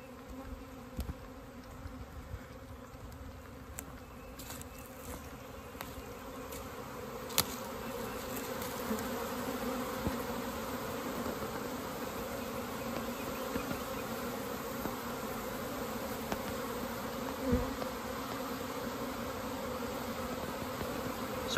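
A honeybee swarm drones near its hive, a dense, steady buzzing that fills the background outdoors, with occasional louder individual bees passing close to the mic.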